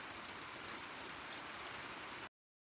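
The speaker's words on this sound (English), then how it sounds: "It is raining here." Steady rain falls outside, a dense even hiss of drops on surfaces that holds unbroken for about two seconds and then stops abruptly, with no voices over it.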